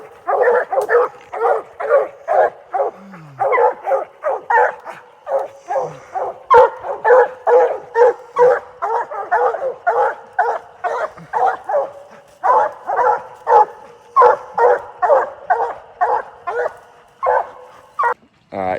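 Hunting dogs bark steadily at a raccoon treed on a night hunt: a loud, near, nearly continuous string of barks and yips with short gaps, and a handler's voice heard briefly among them.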